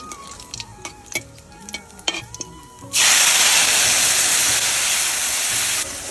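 Spice paste for a snakehead fish curry hits hot oil already seasoned with bay leaf, a dried red chilli and cumin. A few light taps come first, then a sudden loud, steady sizzle that roars on without pause.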